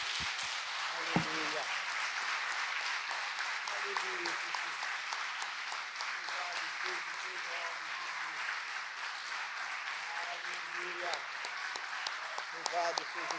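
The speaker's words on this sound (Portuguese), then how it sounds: "aplauda o Senhor em nome de Jesus" Sustained applause from a church congregation fills the whole stretch, steady and dense clapping with faint voices underneath.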